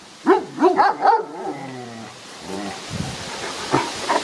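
A dog lets out a quick run of sharp barks and yips, then whines softly, close by and fairly loud.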